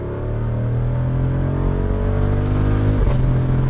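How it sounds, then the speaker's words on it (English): A 2024 Jeep Wrangler 392 with its exhaust valves open growls and revs steadily, a loud, close, deep engine drone that rises in pitch before a brief dip near the end. "Let's open up the exhaust again."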